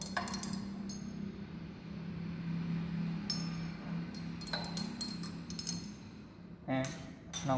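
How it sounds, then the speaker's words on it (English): A glass rod clinks against the inside of a glass measuring cylinder while stirring a liquid in a lab test, with light taps and scrapes in scattered clusters over a steady low hum. "Stir with the help of glass rod."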